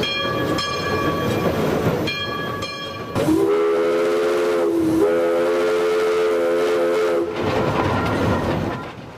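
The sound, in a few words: steam locomotive train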